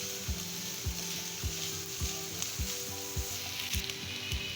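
Carrot, capsicum and green chili stir-frying in a pan for chicken cheese buns, a steady sizzle broken by a regular series of spatula scrapes and knocks against the pan, close and moderately loud with no talking.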